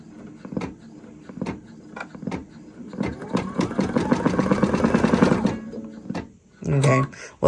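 An embroidery machine running a placement outline without thread gives a fast, steady mechanical stitching whir that speeds into a dense rhythmic run for a few seconds, close up, with a person talking before and after.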